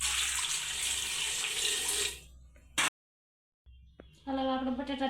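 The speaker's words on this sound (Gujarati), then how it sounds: "પાણી નાખી દેવું" Tap water runs steadily into a pressure cooker holding washed potatoes, stops abruptly for a moment, then flows again, close and moderately quiet.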